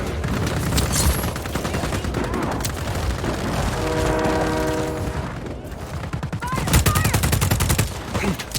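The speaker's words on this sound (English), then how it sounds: "Train's moving again." During a train robbery mission in Just Cause 4, a moving train rumbles beneath rapid bursts of gunfire, and a sustained train horn blast sounds in the middle before the shooting resumes.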